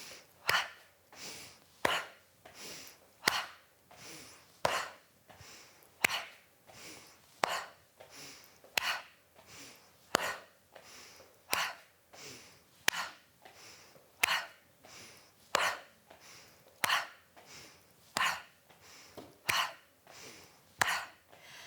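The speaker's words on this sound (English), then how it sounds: "Continue and cup the actual armpits. It makes a quite satisfying noise." Cupped hands pat rhythmically against the armpits in a steady series of about twenty-five hollow slaps spaced just under a second apart, close and fairly quiet, with soft breathing between strokes and no talking.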